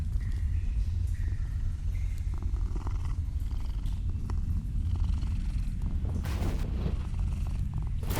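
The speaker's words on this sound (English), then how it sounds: "you can pet the cat while you're here" A cat purrs steadily and loudly while being petted in the video game Mortal Shell, a continuous low rumbling purr running through the whole stretch with no talk.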